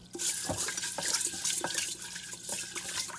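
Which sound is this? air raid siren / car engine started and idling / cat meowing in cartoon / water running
water running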